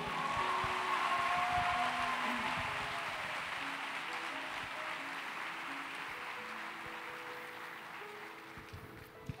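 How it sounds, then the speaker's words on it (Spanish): Church congregation applauding in praise, a broad wash of clapping that is loud at first and slowly fades, with faint voices and sustained tones underneath. "Ahora sí, dale un aplauso al Señor."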